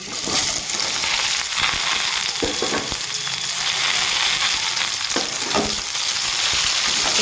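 Chopped ridge gourd with panch phoron frying in hot oil, a loud continuous sizzle with occasional utensil scrapes and stirring knocks, close up and without speech.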